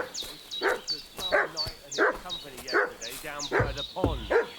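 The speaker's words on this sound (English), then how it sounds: "What's that dog making such a fuss about?" A dog barks and yips in a rapid, agitated series of repeated barks close by, with a voice talking over the commotion.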